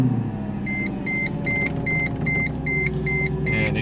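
A Mercedes C55 AMG V8 rumbles steadily at idle after starting, warming up close by while a dashboard chime beeps repeatedly in an even rhythm.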